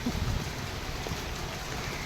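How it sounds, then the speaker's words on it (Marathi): Heavy monsoon rain falls across Mumbai near the Mantralaya area, a steady soft hiss of downpour heard at moderate distance without speech. "सध्या आपण पाहतोय जोरदार अशा स्वरूपाचा पाऊस हा पूर्ण मुंबईमध्ये कोसळतोय"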